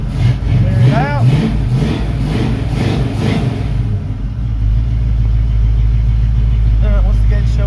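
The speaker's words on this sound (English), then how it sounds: "I'm gonna go ahead and crank it up and see what it'll idle at" Car engine being cranked and settling into a steady idle, with a few brief revs early on under a voice, then a low constant rumble.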